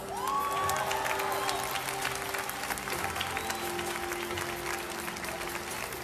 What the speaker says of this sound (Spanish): Hoy yo le quiero brindar un fuerte aplauso con todos ustedes a ese gran maestro,